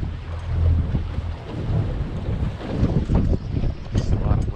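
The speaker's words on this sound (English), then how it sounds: "Just a lot of wind." Steady wind gusts on a fishing boat on black water, a broad low rumble with buffeting on the microphone that rises and falls without letting up.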